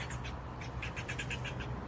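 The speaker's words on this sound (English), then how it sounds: "This squirrel bird is yelling at me" A bird squawks and calls repeatedly in short bursts, fairly close over a steady low outdoor rumble.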